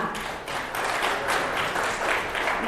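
A room full of trainees at a military instructor teaching session breaks into sustained applause, a dense wash of clapping that stays fairly even throughout.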